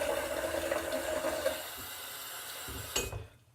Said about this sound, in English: So we'll just put a little bit of water in the bristles